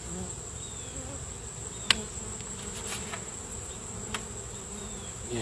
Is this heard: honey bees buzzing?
yes